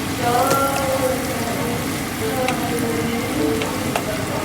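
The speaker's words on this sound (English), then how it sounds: "Add the haldi and little bit of the tandoori masala and let it saute on full heat" Paneer sautéing on full heat in a pan with haldi and tandoori masala, giving a steady, dense sizzle and crackle throughout with a few sharper pops, close and fairly loud.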